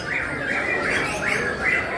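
A murai bird calls loudly and close by, repeating a harsh, rising squawking phrase several times over background noise.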